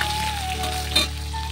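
Bay leaf, green chillies, five-spice seeds and fried ginger crackle in hot oil for a potato tomato curry, a short close sizzle with a brief spatter burst midway.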